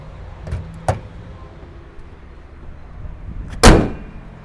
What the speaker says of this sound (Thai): ดี๋ยวขอเอาฝากระโปรงลงนะ